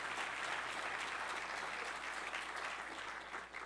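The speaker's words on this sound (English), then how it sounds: "So a round of applause for Innovative Print and all of our sponsors today." A conference audience gives a dense, steady round of applause for event sponsors, loud and continuous throughout before fading slightly at the end.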